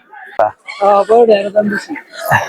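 Native village chickens cluck and squawk up close at a market, with harmonic calls mixed among a busy crowd of talking voices.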